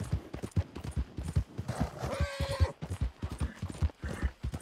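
Horses clip-clop at a walk in Red Dead, irregular hoof thuds close by with a snort or whinny partway through, no talking.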